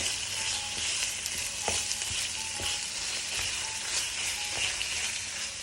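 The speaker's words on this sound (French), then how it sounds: "Et maintenant, je remue constamment jusqu'à ce que les foies soient bien cuits." Chicken livers sizzle and crackle steadily in a hot frying pan while being stirred, with occasional scraping clicks from the utensil over a continuous bright hiss.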